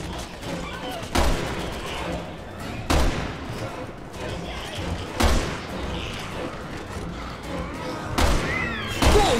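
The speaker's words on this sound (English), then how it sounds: "who's shooting me?" Gunfire rings out in the survival-horror shooter Resident Evil 6: sharp shots land in irregular bursts over a cluttered in-game mix, with several loud reports standing out, while voices talk over the action.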